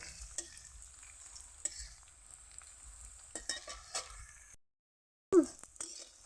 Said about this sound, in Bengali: উল্টেই পাল্টে ভালো করে ভেজে নেব। একটু হালকা হালকা করে আস্তে আস্তে ধরে ভেজে নিলে একদম সুন্দর, একদম মচমচে হয়ে যাবে।